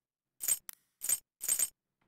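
Dark Souls 1 interface sound effects from a Steam Deck UI theme, three short bright chiming, shimmering cues with a tiny blip between the first two, crisp and isolated against silence.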